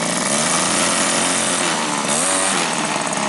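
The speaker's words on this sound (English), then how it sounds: "Runs nice. Seats and idle's nice. It's not too loud." A 1934 Ford coupe engine runs steadily at idle, a loud continuous mechanical drone with a buzzy, raspy tone and no pauses throughout.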